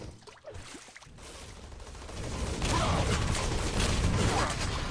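Grenade explosions and weapon fire in the arena shooter Quake Live, a dense, loud burst of blasts and rumbling that builds and stays heavy under gameplay effects.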